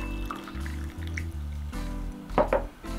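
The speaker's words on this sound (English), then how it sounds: "all I have to do now is to pour my tea into the other cup and filter the tea leaves out in the process" Tea is poured from one cup into another through a sieve, giving a brief liquid trickle and dripping over a low steady hum, loudest in a short burst near the end.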